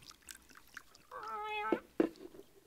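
A cat on a bar counter in a quiet saloon meows, one drawn-out meow followed by two short sharp ones, close and clear, in a 1958 radio drama scene.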